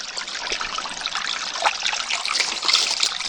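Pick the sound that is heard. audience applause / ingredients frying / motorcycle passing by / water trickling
water trickling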